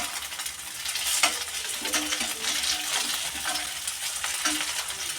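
Leftover rice tikkis fry in oil in a pan, giving a continuous, moderately quiet sizzle broken by a few stirring and scraping clicks, with no talking.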